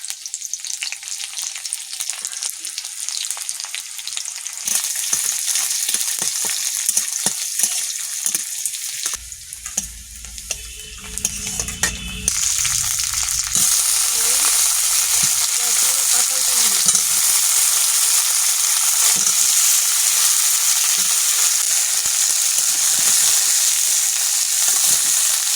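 Frying in oil in a pan gives a loud, continuous hiss and crackle up close, briefly broken by a quieter stretch with a low rumble and a splash of running water before the sizzle returns even stronger and steady.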